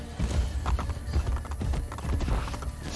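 Hooves clip-clop in a quick, uneven rhythm as a horse gallops in Assassin's Creed: Brotherhood, with loud, low thuds and some rumble running throughout, close and continuous over a short stretch.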